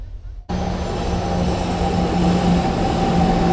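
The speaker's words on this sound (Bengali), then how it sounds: "অবশেষে 3:30 এলো আমাদের ট্রেন 12858 তাম্রলিপ্ত এক্সপ্রেস" Tamralipta Express 12858 arriving at a station platform, a sudden loud rush of rolling wagons and rumbling wheels with a faint squeal, steady and close after a quiet opening.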